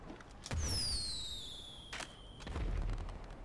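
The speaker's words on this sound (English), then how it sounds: "Oh, it shoots. It's a fireworks thing?" A fireworks rocket launcher fires in GTA, with a sharp launch pop followed by whistling, descending streaks and a second burst, loud and close with no talk.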